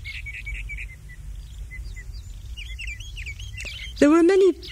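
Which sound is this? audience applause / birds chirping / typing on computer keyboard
birds chirping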